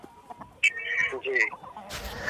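Chickens cluck and squawk in a flock of about 800 hens kept on a house rooftop, several close, sharp calls over a light background, ending in a brief hiss of noise.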